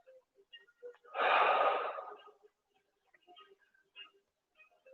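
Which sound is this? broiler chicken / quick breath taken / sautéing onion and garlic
quick breath taken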